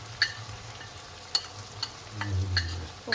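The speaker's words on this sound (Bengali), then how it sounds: "এটাকে ভালো করে মশলার সাথে এবার কষিয়ে নেবো" Chicken biryani masala sizzling in a pan with ground coriander, cumin, chili powder and turmeric, a steady frying hiss punctuated by several sharp clicks of a spoon scraping and stirring, close and clear with no voices.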